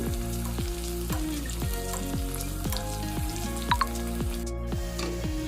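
Bitter gourd pieces frying in hot oil, a continuous close sizzle with light crackles and a couple of brief sharp pops near the end, with no one speaking.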